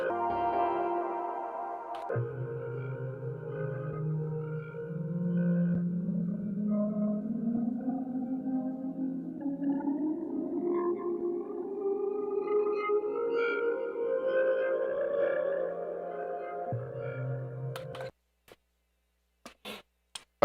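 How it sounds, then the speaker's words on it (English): Synthesizer with an arpeggiator running, producing a continuous stream of rapid repeating tones whose pitch sweeps slowly upward over many seconds, then stops suddenly, followed by a few scattered clicks. "I'm gonna remind you how the ARP sounds like."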